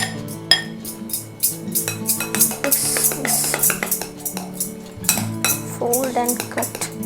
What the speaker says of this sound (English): Now add this whipped egg white to this